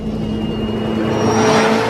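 A McLaren car's 3.8-litre twin-turbo V8 engine runs with a steady whirring drone that swells slightly toward the end, close and fairly loud, with no voices.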